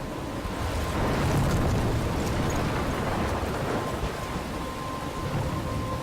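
Thunderstorm and rain in the video game Life Is Strange, a dense steady roar of heavy rainfall with deep rumbling thunder underneath, loud and continuous throughout with no voices.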